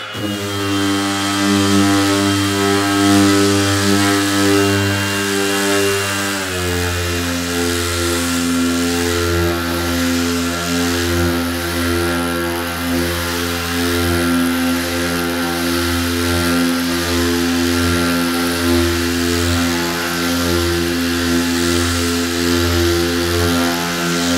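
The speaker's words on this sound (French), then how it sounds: "Alors là, je ponce à vitesse réelle, hein, je n'accélère absolument rien." A Bosch GEX 18V-125 cordless random orbital sander with 80-grit paper runs on its slowest speed setting, a loud, steady, close motor drone whose pitch shifts slightly early on, with no talking.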